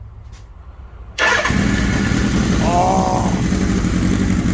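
A restored 1983 Suzuki GS motorcycle engine cranks and catches, then settles into a loud, steady running roar close by, with a brief exclamation from a voice at the start.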